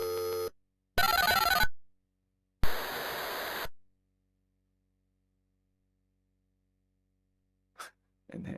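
Telephone ringing in the 1989 Access Software detective game Tex Murphy: Mean Streets, heard as two loud electronic ring bursts about a second long with a gap between them, then a faint brief blip near the end.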